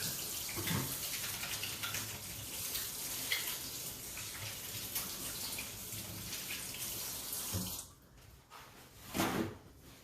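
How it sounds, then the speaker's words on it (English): Tap water runs steadily as hands are washed beneath it, a close hissing stream with soft splashes that cuts off near the end, leaving a few drips and a brief rustle. "Let me just wash my hands real fast"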